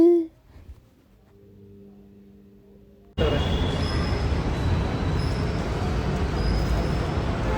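Metro train at Vijayanagar metro station in Bengaluru: after a few seconds of quiet with a soft low hum, loud broadband rumble and rail screech suddenly begin and continue steadily at close range.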